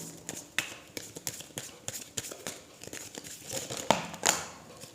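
Oracle angel cards being shuffled by hand, a close run of crisp papery flicks and slaps in uneven bursts, with a couple of sharper snaps near the end and no talk.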